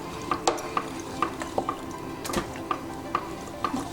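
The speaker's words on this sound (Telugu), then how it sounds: "ఇప్పుడు మనం ఈ పప్పు గుత్తితో బాగా కలుపుకోవాలి." Cooked toor dal being mashed and stirred with a wooden dal masher in a pot with tender tamarind leaves, giving a steady run of soft, wet squelches and light knocks against the pot, close up, with no talking.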